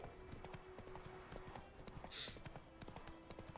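Roach the horse trots in The Witcher video game, with quiet, rapid hoof clip-clops repeating in a steady rhythm behind a faint game soundscape.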